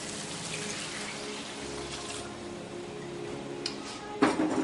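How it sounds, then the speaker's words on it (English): Water runs and splashes steadily into a cooking pot, a soft continuous gush, with a brief louder splash near the end. "Let's add the water first,"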